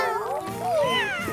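A cat meows in a long, wavering, high-pitched call with bending tones, loud and close, with a second softer mew overlapping, in a kitchen setting.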